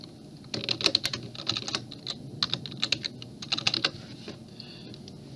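Password being typed on a computer keyboard, a run of close, quick key taps in uneven bursts with brief pauses, no talk.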